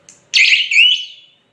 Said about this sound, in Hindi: यहाँ से सिंगल बीप की आवाज़ आएगी।